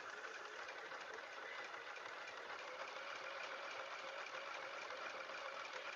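A sewing machine stitches a quilt wallhanging with a continuous, fast, even mechanical whir and chatter. It holds at a steady level throughout, fairly quiet, with no talking.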